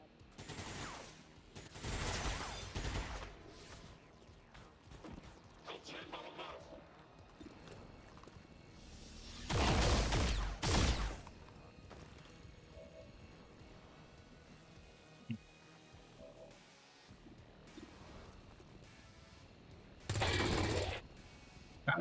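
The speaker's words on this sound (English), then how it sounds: "We're gonna run the suppression and then shoot the Lancer point blank" Bursts of gunfire from suppression and a point-blank shot in the XCOM 2 Long War of the Chosen video game arrive as three or four loud clusters of rapid shots separated by quieter gaps.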